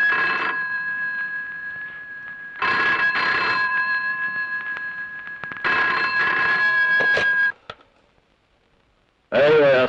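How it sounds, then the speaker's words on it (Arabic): An old-style telephone bell rings in loud repeated bursts, three long rings separated by short pauses, then near silence before another ring starts; no speech over it. "سيبه يرن شويه."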